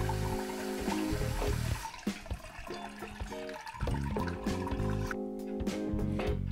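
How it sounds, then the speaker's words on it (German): Cold tap water running into a jug, a steady loud gushing stream with changing pitch as the vessel fills, broken by brief pauses. "die fülle ich jetzt auf mit kaltem Wasser"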